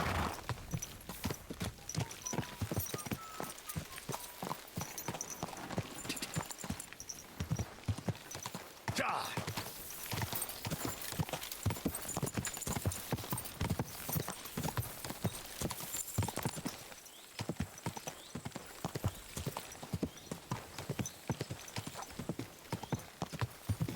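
Horse hooves clip-clopping in Kingdom Come: Deliverance II, a steady rapid trot of hoofbeats throughout, close and prominent with a brief whinny.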